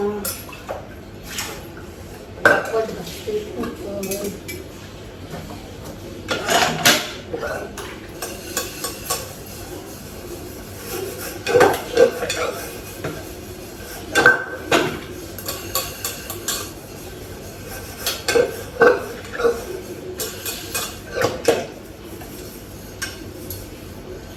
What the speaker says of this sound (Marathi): आता कुकर घासून घेते मी